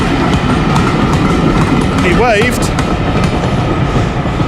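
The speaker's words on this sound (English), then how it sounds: "There's a train about to go past. You'll hear it." A heritage railway train rumbles past with rhythmic clattering of wheels on track, loud and close; someone says a word partway through.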